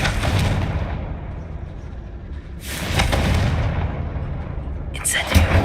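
Confringo blasting spell fired in Hogwarts Legacy inside a closed mine: a loud, sustained boom rolling under game noise, followed by a second heavy burst near the end.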